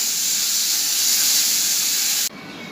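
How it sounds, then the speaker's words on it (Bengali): Shrimp coated in salt and turmeric fries in hot oil in a home kitchen, making a loud, steady sizzle that cuts off abruptly near the end and leaves a softer hiss. "চিংড়ি মাছটা ভেজে নেব"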